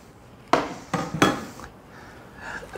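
A mixing bowl is slid back into place and grated apples are dropped into it, giving three close, sharp knocks and scrapes of the bowl on the counter followed by faint soft rustling.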